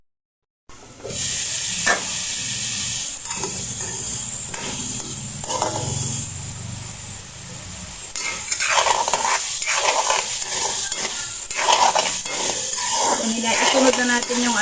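Carrots sautéing in a pan for pork giniling, a loud, constant close hiss of frying after a brief silent start, with occasional scrapes of a stirring utensil over it.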